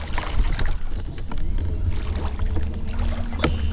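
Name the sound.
Minn Kota trolling motor with weedless wedge prop running in reverse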